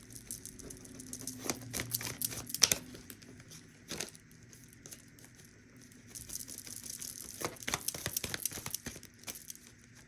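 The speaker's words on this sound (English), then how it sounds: "the cards are becoming hard to shuffle" A deck of playing cards is shuffled close by, with crisp riffling, crinkling and tapping in irregular bursts and pauses, with no voices.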